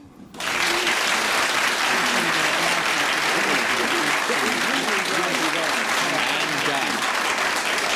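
Studio audience applause at a 1970s British television panel game, bursting in suddenly and holding as a dense, loud, even clatter of many hands, with faint voices mixed underneath.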